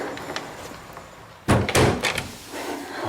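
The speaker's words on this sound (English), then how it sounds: "Let me get the door." An indoor door opens with a loud clunk and rattle of the latch and frame, followed by a quieter settling thud, after a few soft faint knocks.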